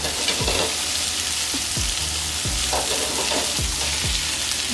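Tomatoes fry in bacon fat for birria tacos, giving a continuous bright sizzle with a series of soft low thumps from stirring at a steady pace, heard close and without speech.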